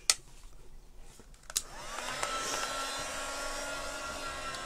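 A hair dryer switches on after a couple of clicks and blows steadily at close range, drying layered wax on an interior decoration piece; the whirring airflow holds a constant level throughout.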